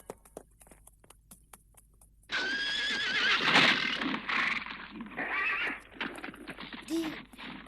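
A wild horse neighs loudly and close, a long shaky whinny that starts abruptly partway through and tapers with further snorting cries, after a quiet stretch of soft clip-clop hoof taps.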